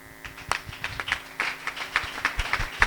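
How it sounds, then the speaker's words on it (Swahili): A church congregation applauds, giving a short burst of uneven hand claps that builds and scatters over a few seconds, with faint murmuring underneath. "Hebu simama tukuchapie makofi."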